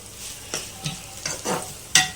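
Sabudana khichdi ingredients (potato, cashews, curry leaves, green chillies, cumin) sizzle in a pan while being tossed, with several scraping stirs and a steady frying hiss close up.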